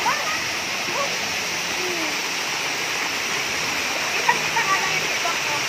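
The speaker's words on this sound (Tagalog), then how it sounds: "Galing sa bundok yung tubig na yan." Mountain water pours steadily into a bath, a loud continuous splashing rush close by, with faint voices now and then beneath the flow.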